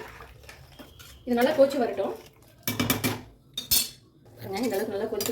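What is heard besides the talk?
stirring rice and spinach pulao in a pot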